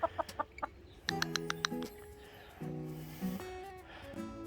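Several hens of a blue-egg-laying breed cluck in a backyard vegetable garden, with short bursts of repeated clucks and longer drawn-out calls coming in waves, fairly close, over low background noise.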